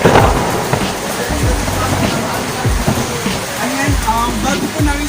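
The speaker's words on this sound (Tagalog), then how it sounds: "dahil umuulan, syempre maliligo kami ng ulan." Heavy rain pours down outdoors in steady broadband hiss, with people talking over it and occasional splashes and movement.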